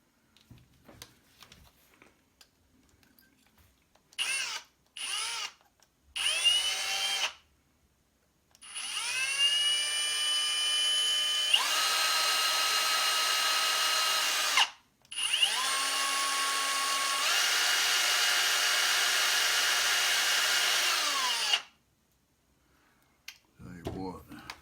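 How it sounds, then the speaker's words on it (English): A hand drill bores into a Japanese Firebird pipe lighter, its whirring motor rising and falling in several bursts, some several seconds long, separated by short pauses and clicks, close and fairly loud. "That's pretty good for hand drilling."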